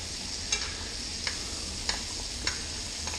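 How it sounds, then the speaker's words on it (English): Steak sizzling steadily in a hot pan, a broad continuous hiss with a few soft clinks and scrapes as the juices are spooned over it, close and moderately loud with no talking. "You just keep basting."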